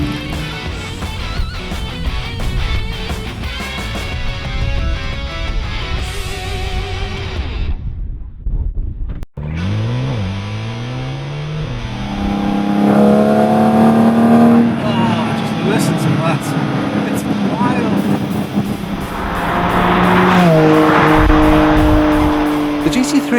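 A Porsche GT4 RS engine revs hard and rises through the gears as tires squeal under load, loud and close the whole time. The engine briefly cuts out midway, and a voice talks over the noise.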